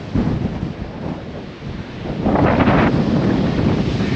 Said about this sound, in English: Super windy though